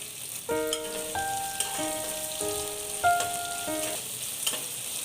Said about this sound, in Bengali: আমি পেঁয়াজ কুচি এবং মরিচ কুচি করে তেলের মধ্যে ভেজে নেব